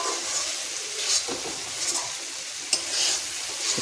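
Chicken pieces fry in hot oil in a pan, giving a continuous bright sizzle with scattered pops and a sharp crack near the end, close and without speech.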